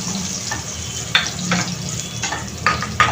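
Onions fry in a pan, with a steady low sizzle and several sharp scraping stirs of a spoon against the metal.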